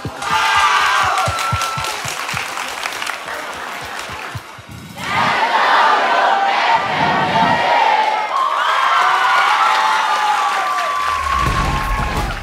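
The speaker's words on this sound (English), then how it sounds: "Give yourself a round of applause" Schoolchildren clap and cheer after an inter-school drone competition result is announced. The loud applause and whoops run through most of the clip, and a voice comes through in places.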